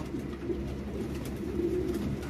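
Low, soft racing pigeon coos blend into a steady murmur, several birds calling continuously at moderate distance with no talking.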